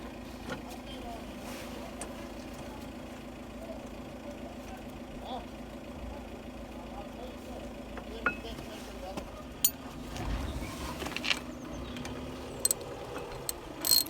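A hand ratchet runs bolts down during front disc and pad replacement on a Nissan Micra K11, with faint, intermittent clicking bursts that grow sharper toward the end, over a quiet garage background with low talk.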